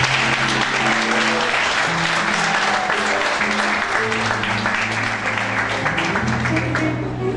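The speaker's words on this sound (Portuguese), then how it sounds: "Dê uma salva de palmas para você." A church congregation applauding loudly and continuously, with steady dense clapping over sustained organ or keyboard chords playing underneath.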